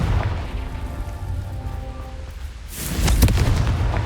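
A Confringo fire spell from Hogwarts Legacy detonates with a loud, broad burst partway through, rumbling low and fading over a hissing, crackling bed, with a steady ambient drone leading in before it.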